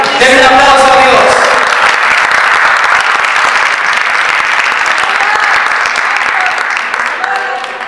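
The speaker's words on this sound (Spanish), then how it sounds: "Denle un aplauso a Dios." A church congregation breaks into loud, sustained applause during a service, a dense roar of clapping and cheering that fills the room, with a voice and some musical tones audible at the start and end.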